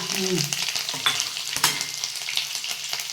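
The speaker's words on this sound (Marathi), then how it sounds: "तेल टाकलं आता ते हे टाकतो जिरी मोहरी कढीपत्ता" Cumin, mustard seeds and curry leaves hitting hot oil, a loud spitting sizzle with sharp pops and crackles, close and unbroken by speech.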